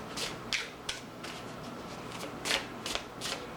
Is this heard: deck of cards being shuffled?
yes